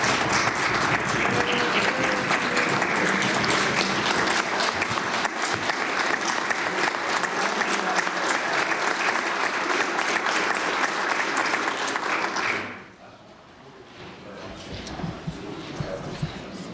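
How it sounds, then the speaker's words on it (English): Members of a legislative House of Assembly applaud in a chamber, a loud, dense round of clapping lasting about twelve seconds before cutting off abruptly, followed by quieter room noise and a speaking voice. "would this House of Assembly Please applaud Divya Thomas"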